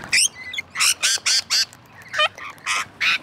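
Wild Australian birds in a noisy flock give repeated harsh, loud squawks in quick bursts close by, about eight calls in a row with brief gaps.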